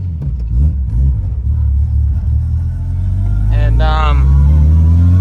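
A Nissan Skyline R33 with a newly fitted 350Z differential on a test drive: a steady low engine rumble and road drone throughout, with someone talking over it in places.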